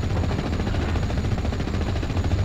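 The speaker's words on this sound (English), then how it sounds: "I've got a couple more APCs with those lovely 30 cal machine guns" 30 cal machine guns firing from APCs in Steel Division: Normandy 44, a continuous dense rattle of rapid fire over a low rumble of battle ambience, with no talk.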